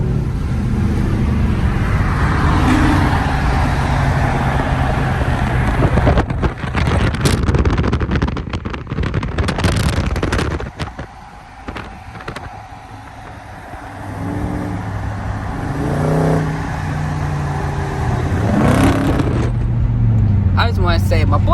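Engine of a 2020 Dodge Charger R/T with the 5.7 V8, nearly stock, rumbling and revving loud and close with a steady low drone, surges and broadband bursts, with people talking over it.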